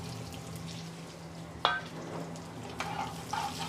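Cumin seeds, dry Kashmiri chilies and sliced garlic sizzling in ghee for a daal bhuna, a quiet steady crackle with a sharp pop near the middle and a few later stirring scrapes.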